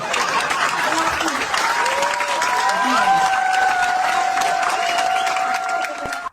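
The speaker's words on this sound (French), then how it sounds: "Si vous voulez, vous applaudissez." Audience applause at a Riviera Palmeraie gathering, steady and dense throughout, with scattered voices and crowd noise mixed in.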